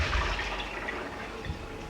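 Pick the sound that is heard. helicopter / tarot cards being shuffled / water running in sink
water running in sink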